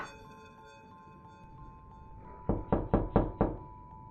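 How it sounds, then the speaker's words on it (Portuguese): Five firm knocks land on a door in a quick, slightly uneven sequence, close and fairly loud, following a quiet stretch with a faint steady hum. "E uns instantes depois, bateram à minha porta."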